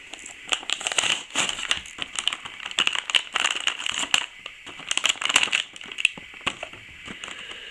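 Stiff plastic toy packaging for a knock-off interchangeable robot figure is torn open up close, with repeated crinkling, crunching and snapping bursts that come in an irregular rhythm and fill the clip without speech.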